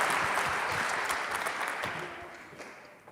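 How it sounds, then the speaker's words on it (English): A crowd claps for the final pitch team at the IdeaUp Challenge 2021 Final Gala, a thick wash of applause that starts strong and gradually fades toward the end. "So please, big round of applause for Psicólogo."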